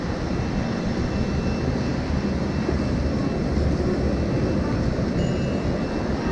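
A high-pressure water jet at a bike wash in Japan blasts mud off a motorbike and its plastic parts, giving a loud, steady, close rushing spray that runs unbroken throughout with no voices.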